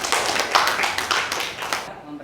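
A brief burst of clapping for a presenting group in a school classroom, a short, close flurry of hands that stops abruptly.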